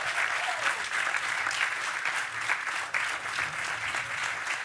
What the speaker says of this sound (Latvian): Aplausi visiem 6